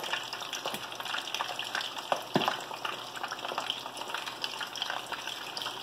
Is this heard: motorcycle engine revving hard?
no